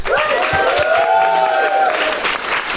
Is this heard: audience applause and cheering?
yes